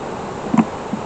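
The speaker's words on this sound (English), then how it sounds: "There's a lot of bees down here." Honey bees at an open beehive while supers are being added, a continuous close buzzing hum with a few brief louder passes of individual bees.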